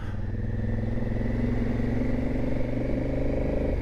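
A motorcycle with a weak, underpowered engine rides along a highway, its steady engine drone loud and close throughout with constant wind rush.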